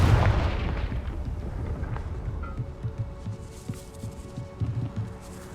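A Confringo fire spell in Hogwarts Legacy goes off with a heavy booming blast at the start, then rumbling, throbbing low echoes and game ambience trailing behind it.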